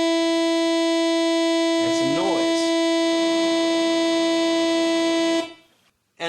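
An ARP Axxe synthesizer holds a steady buzzy tone with a noise source mixed in, giving a hissy wash over the sustained note; a sweeping filtered swirl rises and falls midway before the sound cuts off near the end.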